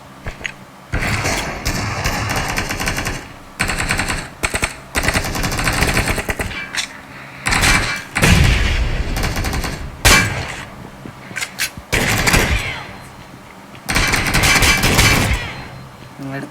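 Gunfire from a shooting video game comes in loud rapid bursts of automatic shots, separated by brief quieter gaps, across the whole stretch.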